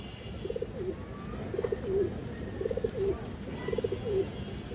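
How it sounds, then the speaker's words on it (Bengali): Large pigeons coo close by in four evenly spaced, rolling phrases over a low background hum. "দেখেন আপনারা বড় সাইজের কবুতর দর্শক"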